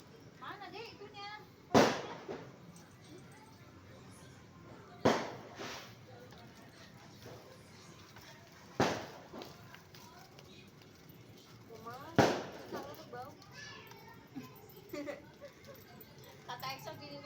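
Firecrackers going off outside at night, four or five sharp, separate bangs spaced several seconds apart at moderate distance, with people talking faintly in between.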